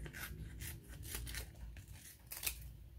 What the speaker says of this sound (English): I like to cut this in half just like this.